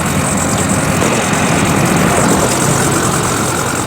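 A lifted, tuned 2008 Ford F-250 XLT with a 6.4L Powerstroke turbo diesel idles close by, a loud, steady, unbroken engine drone with no voices over it.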